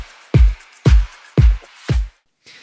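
Isolated drum stem pulled from a music track: four loud, evenly spaced kick-and-snare hits with bright cymbal wash, about half a second apart, then a faint trailing hit, with no other instruments.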